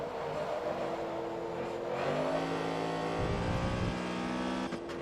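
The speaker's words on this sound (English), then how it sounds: "A little bit of wheel spin coming out of corners in second." Race car engine in Forza Motorsport 2 revving hard with wheel spin out of corners in second gear, loud whining tones rising and shifting, no talk.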